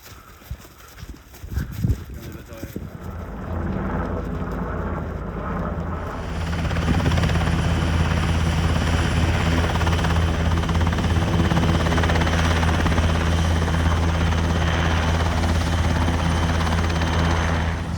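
A helicopter's steady, loud rotor roar and whine, swelling after a few seconds and continuing, with brief knocks early on, during a French Army urban training exercise with hostages being extracted.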